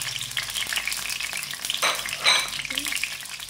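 Tomatoes added to hot oil in a karahi sizzle and fry steadily up close, with a few soft stirring and pan sounds over the low crackle.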